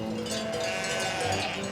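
Sheep bleating from a flock in the fantasy crafting video game Wytchwood, a steady layered chorus of game-audio calls over ambient music, moderately quiet and continuous without talk.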